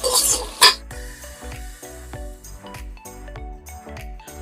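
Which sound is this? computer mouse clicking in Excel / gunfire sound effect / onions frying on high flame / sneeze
onions frying on high flame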